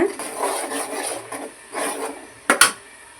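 Tomato rasam ingredients being stirred together in a pot give a steady soft scraping and rubbing, with two sharp metal clinks near the end.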